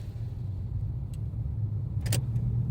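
A car engine hums steadily at low pitch while the car pulls forward in first gear through busy traffic on a rainy day, with a brief louder splash or hiss near the end.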